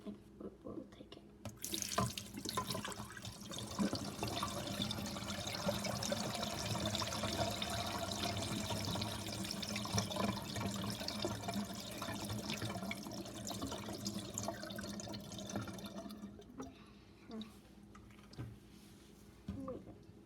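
Water runs and splashes nearby for most of the stretch as a small toy toilet flushes, fading toward the end, with a voice talking over it at times.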